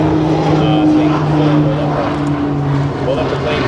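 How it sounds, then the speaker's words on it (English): A propeller airplane droning steadily overhead near wildfire operations in northwestern Ontario, a loud continuous engine hum with a sustained tone that masks the background. "We'll let the plane go by so you can still hear me"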